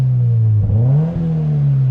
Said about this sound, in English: We'll give it a couple little revs right here.